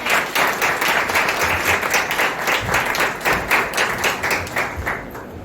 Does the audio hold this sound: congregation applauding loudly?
yes